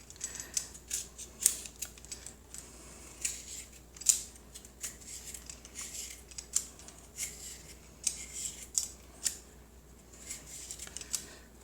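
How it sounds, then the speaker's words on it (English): Artichoke stems being peeled with a knife for Sicilian stuffed artichokes, a close series of crisp scraping strokes in an irregular rhythm with no talk. "Now the stems, I'm just going to peel."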